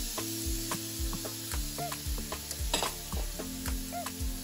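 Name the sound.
garlic and ginger frying in a pan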